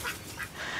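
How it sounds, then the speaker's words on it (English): Ducks quack in a brief, close burst of overlapping calls at moderate loudness, mixed with honk-like notes, with no voices over them. "That's raised the curiosity of those ducks."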